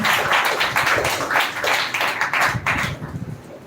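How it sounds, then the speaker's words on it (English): An audience claps after a speech at a speaking competition grand finale. Dense, loud applause carries through most of the clip, then thins out and fades toward the end. "Please again give a huge round of applause for Mr. Gandhi."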